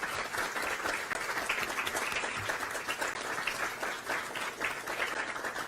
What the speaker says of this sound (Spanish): vamos a despedir con un fuerte aplauso, no solo para nuestras invitadas